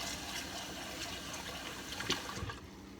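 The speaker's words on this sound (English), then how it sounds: "you're gonna rinse the rice until it sort of comes clear" Cold tap water running over rice being rinsed, a steady soft rushing and trickling with a brief splash near the end, fairly faint and close.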